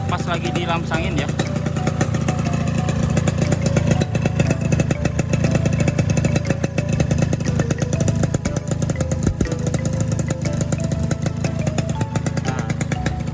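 A motorcycle fitted with a Boban Nuklir aftermarket exhaust and a 125-grade piston runs steadily and loud throughout, a dense rumbling drone with continuous rapid pulsing close to the microphone.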